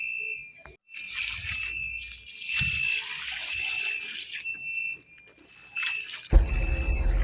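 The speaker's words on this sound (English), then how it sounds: "So I'm just pouring water in the sacks," Water poured into dry soil sacks for dry-season bean planting, gurgling and splashing in bursts separated by pauses, with a steady high electronic tone running above and a louder rustle at the end.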